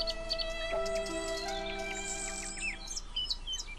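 Small bird chirping in a Hindi cartoon story, with repeated bright tweets and short calls over a steady tonal musical backdrop, moderately loud and close, with no talking.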